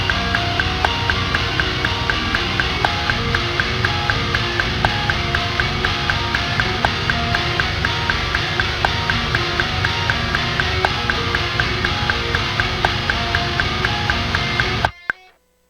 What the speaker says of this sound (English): So our chorus with the lead melody and everything is going to sound like this with the click track that we have.